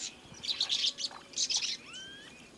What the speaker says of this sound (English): Even the little finches are happy to bathe within inches of a stranger.